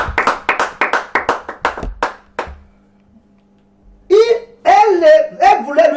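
A congregation in church claps about ten quick, even, sharp hand claps in a row, then falls silent before a voice starts speaking loudly.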